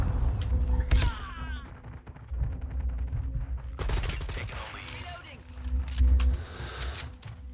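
Sniper fire in a video game, heard as several loud, sharp gunshot cracks with mechanical clicks between them. A person talks over the shots.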